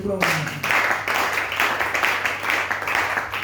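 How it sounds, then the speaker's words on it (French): Congregational clapping in a French-speaking church service, a steady rhythmic applause of many hands at moderate distance that starts abruptly and continues without pause. "on acclame le Seigneur"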